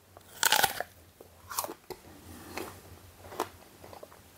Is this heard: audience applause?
no